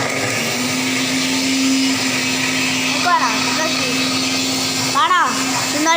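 A kitchen mixer grinder runs at a constant loud whine as chutney with dried fish is blended again, with brief voices breaking in over the motor noise.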